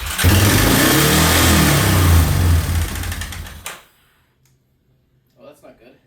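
A quad's engine revs loud and steady with its idle set too high, then dies away into near silence, followed by a brief voice at the end.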